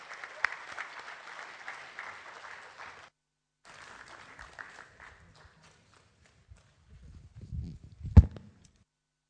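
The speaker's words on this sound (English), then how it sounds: "Please welcome Mr. Ankar Chenian and Ms. Reem Al-Mahrouz on stage to present their topic" Audience applause at a Bahrain chapter event greets two presenters walking on stage: a steady wash of clapping for about three seconds, a brief gap, then thinner fading claps, followed by low thumps and a sharp knock near the end.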